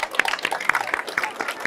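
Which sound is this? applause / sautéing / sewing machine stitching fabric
applause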